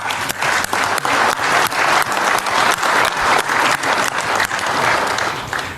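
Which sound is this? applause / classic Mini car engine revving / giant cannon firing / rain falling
applause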